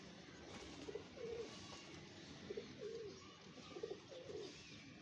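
Pigeons coo softly in repeated low, throaty phrases, three or four rolling calls spaced evenly against a steady background hum.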